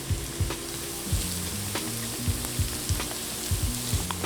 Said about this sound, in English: I'm gonna add my garlic. I've got the white parts of the green onions.